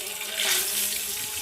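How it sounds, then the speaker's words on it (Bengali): Eggs dropped into hot oil seasoned with salt and turmeric on a tawa, a bright broadband sizzle that swells sharply and then settles into a steady crackling hiss, with no talk. "বন্ধুরা, তেলটা গরম হয়ে গেছে, আর আমি একে একে ডিমগুলোকে দিয়ে ভেজে নেব"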